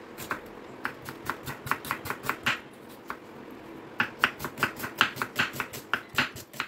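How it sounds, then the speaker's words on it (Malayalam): Onions and tomatoes being chopped with a knife on a board in a home kitchen, a steady run of close, crisp cutting taps in bursts, pausing briefly midway before resuming at a quicker pace. "പിന്നെ ഇതാ ഉള്ളി തക്കാളി അങ്ങനത്തെ കാര്യങ്ങളൊക്കെ ഒന്ന് കട്ട് ചെയ്തെടുക്കലാണ്"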